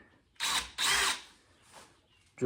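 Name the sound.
power drill drilling holes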